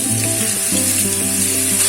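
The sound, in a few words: fish frying in hot sesame oil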